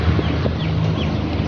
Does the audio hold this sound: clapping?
no